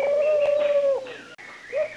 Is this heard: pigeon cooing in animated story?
yes